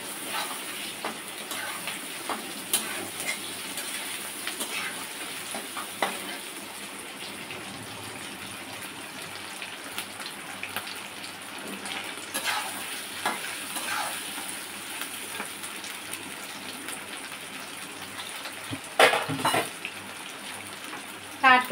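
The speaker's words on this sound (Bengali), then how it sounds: "এবার কষে নেব" Ginger and garlic are stir-fried in a pan, giving a quiet, continuous low sizzle with occasional soft scrapes and a few louder clinks near the end.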